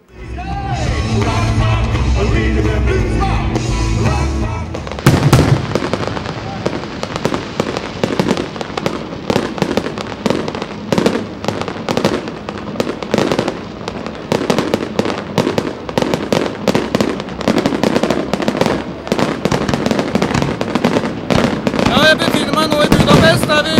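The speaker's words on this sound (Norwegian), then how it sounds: "vi har et lite fyrverkeri for å feire bevis" A small fireworks display set off to celebrate a hunt in Hungary, with dense rapid crackling and popping bursts that run almost continuously and loudly after a quieter opening, a few sharper bangs standing out.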